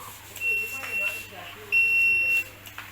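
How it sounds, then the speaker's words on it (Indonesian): A buzzer wired to a proximity sensor switch sounds in short steady beeps, then one longer sustained tone, over faint background hum with a voice nearby. "Maka switch ini bisa mengoperasikan buzzer tatkala switch ini ditekan."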